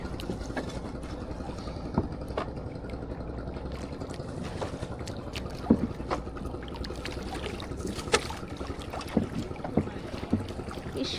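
A boat travels on the river from Jaflong Zero Point toward a waterfall, giving a steady low rumble of motion and water with wind buffeting the microphone, continuous and fairly close, with no one talking.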